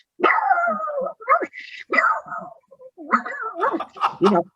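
A voice imitates a pug barking, giving a string of short, yappy, nasal barks with brief pauses between them, close and fairly loud.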